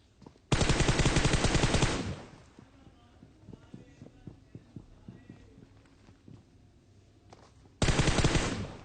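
Automatic gunfire from a battle royale video game during a mid-range fight with an enemy arriving by buggy, with two loud sustained bursts at the start and end and scattered quieter shots and footsteps between them.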